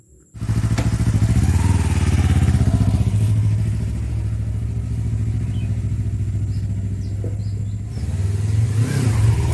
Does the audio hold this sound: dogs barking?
no